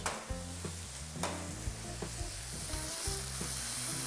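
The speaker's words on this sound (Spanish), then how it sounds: "Pendientes de nuestros medallones, importante sellarlos por todo lado." Mediterranean-style meat medallions searing in a hot pan, a steady loud sizzle and crackle running throughout with occasional stirring noises and no talking.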